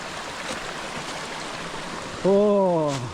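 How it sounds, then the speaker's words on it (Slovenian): A waterfall and stream in a gorge on the island of Evia rush with a continuous broadband hiss, steady and close throughout, before a voice briefly speaks over it near the end. "Pa še lep slap."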